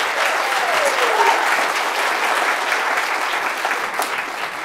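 Audience applause for a fifth grade band at an elementary school fall concert, a steady, dense wash of clapping filling the room for several seconds, with a faint whistle or voice sliding above it.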